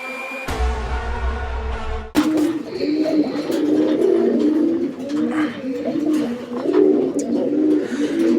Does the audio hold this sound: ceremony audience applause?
no